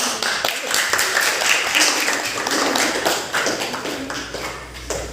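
A classroom group gives steady applause, dense hand clapping that continues for several seconds at moderate loudness, with a voice faintly beneath.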